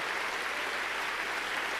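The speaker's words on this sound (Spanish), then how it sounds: "démosle palmas fuertes a nuestro Señor" A church congregation claps loudly together during a service, a brief, dense and continuous roar of applause with no voices over it.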